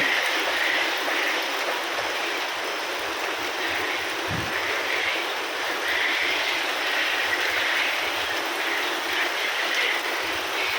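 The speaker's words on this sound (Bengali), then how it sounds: "এই টিনের শব্দ বৃষ্টির মধ্যে কত ভালো লাগে" Heavy rain pours onto the tin roof of a village house, making a dense, unbroken hiss and patter that stays steady throughout, with no voices.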